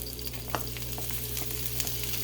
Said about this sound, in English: add the shallots to the hot pan